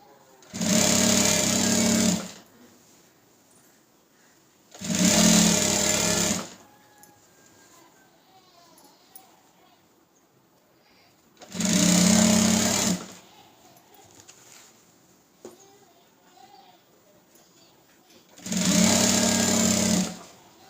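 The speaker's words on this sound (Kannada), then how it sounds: "ಈ ಅರ್ಧ ಇಂಚಿಗೆ ಈ ರೀತಿ ಸ್ಟಿಚ್ನ ಹಾಕ್ಕೊತಾ ಇದ್ದೀನಿ ನಾನು" A sewing machine stitches a blouse lining along a border in four separate bursts of loud, fast whirring chatter, each lasting about two seconds, with quiet pauses between them.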